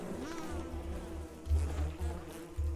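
Bees buzz in the video game Don't Starve, a low droning hum that swells in pulses, fairly quiet and without speech.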